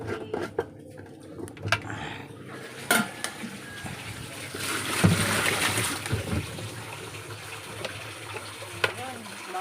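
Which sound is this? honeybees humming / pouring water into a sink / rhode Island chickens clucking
pouring water into a sink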